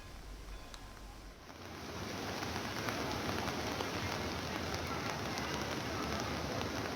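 Steady rain falling outdoors at Gangotri in the mountains, a dense continuous patter and hiss that swells after the first second and holds loud and even to the end.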